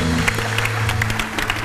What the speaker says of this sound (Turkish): Evet, alkışlıyoruz